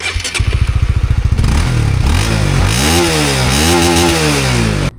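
A 2025 Yamaha RSX150 motorcycle engine with a stock exhaust rapidly putters at idle, then revs up and down in several loud, close throttle blips.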